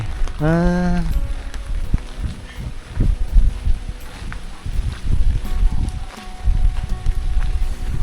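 Heavy rain falls steadily in a broad, hissing wash with gusty swells and patter. A brief voice-like call comes near the start.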